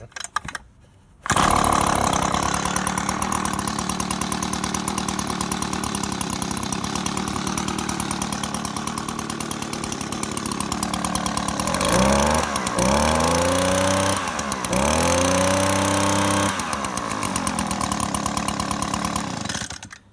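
An Echo leaf blower's small two-stroke engine starts after a brief quiet moment and runs loud and close, holding a steady buzzing idle with a few rising revs near the end.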